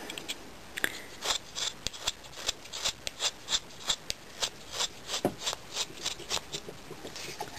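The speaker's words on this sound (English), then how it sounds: "Now there's a lot of sanding with this." Hand sanding of a carved wooden black lab puppy figure, a series of dry, raspy rubbing strokes in an irregular rhythm, close and fairly quiet, with no talk.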